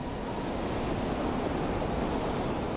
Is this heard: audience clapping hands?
no